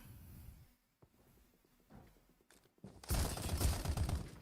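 Faint scattered single shots from Farlight 84 target practice, then a loud dense burst of rapid gunfire that swells and keeps going at the end.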